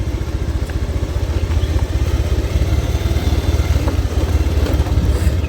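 A motorcycle engine chugs loudly and continuously while the bike is ridden along a rough mountain road, with rattling clatter over the rumble.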